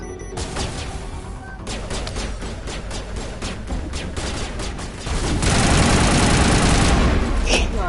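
Gunfire in a shooter video game, scattered bursts and single shots popping at a moderate distance before a denser, louder barrage takes over near the end, with a voice talking over it.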